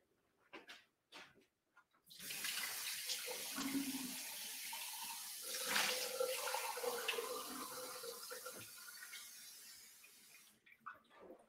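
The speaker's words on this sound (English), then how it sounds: "All right, I'm going to change my water." Tap water runs steadily from a faucet into a sink while makeup brushes are being washed and the rinse water is changed, a continuous close splashing stream that starts after a few faint knocks and stops near the end.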